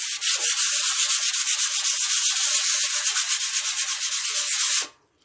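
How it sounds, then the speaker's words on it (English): Hand sanding a warped Blackstone griddle's metal surface with a doubled-up sanding net: a loud, continuous rhythmic scrubbing rasp, close up, that stops abruptly near the end. "you can take these sanding nets. I like to use them instead of normal sanding paper"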